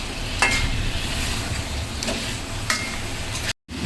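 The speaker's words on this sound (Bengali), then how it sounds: "এখন ভালো মতো ভেজে নিব প্রায় দশ পনেরো মিনিটের মতন আমি এটা ভাজা ভাজা করে নিব" Beef pieces sizzle in a hot pan while being stirred for achari beef bhuna, with a continuous fry hiss broken by several scraping strokes of the spoon and a brief cut near the end.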